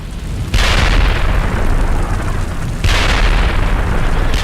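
Two heavy, close artillery blasts in Steel Beasts Pro PE, a tank simulation game, each a loud sudden boom that rolls into a long rumbling decay, with the second landing about two seconds after the first.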